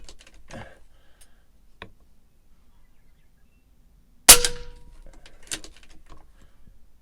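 A Cattlemen M1 air rifle fires a single sharp, loud crack at a 25-yard target, followed by a short metallic ring, with scattered quiet clicks and handling noises before and after.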